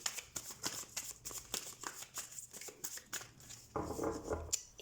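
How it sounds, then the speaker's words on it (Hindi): Tarot cards are shuffled by hand in quick, faint riffling flutters, close and quiet, with a soft louder rustle near the end. "मुझे ऐसा इंट्यूटिवली लग रहा है कि मुझे एक और बार कार्ड्स को शफल करना चाहिए।"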